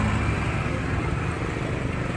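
Isuzu D-Max 3.0 diesel engine running just after starting, a loud, close, steady low rumble throughout.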